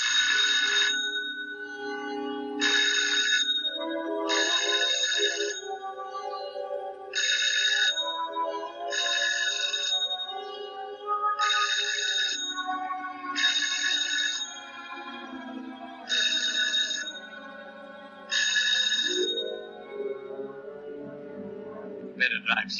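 A telephone rings repeatedly in regular bursts, fairly close and clear, with music and voices running underneath throughout, in a 1944 film.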